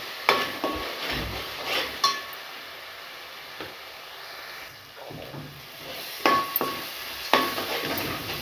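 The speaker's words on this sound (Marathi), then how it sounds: "हा सगळा मसाला मी तेलात फ्राय केला," Pav bhaji masala frying in oil while being stirred in a pan, with a steady low sizzle broken by several sharp clinks and scrapes of the spoon against the pot.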